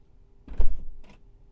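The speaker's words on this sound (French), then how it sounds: "Un double clic va ouvrir la porte avant." A Tesla Model 3 or Model Y front passenger door opening after a double click on a Yeslak button, heard as a close mechanical thunk with a brief motorized whir, then a second shorter release sound a moment later.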